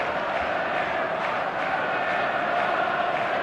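A passionate stadium crowd roars continuously in the eFootball 2025 video game, a dense, steady wash of cheering and chanting at even loudness with no breaks.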